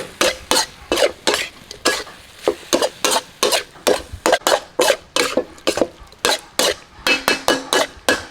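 A pork stir-fry with holy basil, sliced lemongrass and torn kaffir lime leaves is tossed and stirred in a pan, producing loud rhythmic bursts of scraping and sizzling, roughly two or three per second, with no one speaking.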